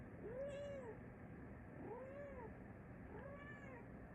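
A calico cat meows three times indoors, each a drawn-out, whiny rising-and-falling call spaced about a second and a half apart, fairly faint against a steady hiss, with no talking.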